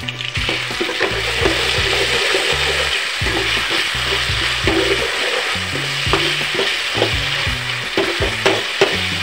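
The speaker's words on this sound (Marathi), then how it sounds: "हा कांदा लाल येईपर्यंत चांगल्या प्रकारे शिजू देणार आहे" Onion frying in a pan with ginger garlic paste while being stirred, a loud steady sizzle with repeated scraping strokes of the spoon, close up and continuous with no talk.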